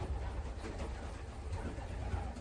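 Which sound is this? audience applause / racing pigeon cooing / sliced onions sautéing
racing pigeon cooing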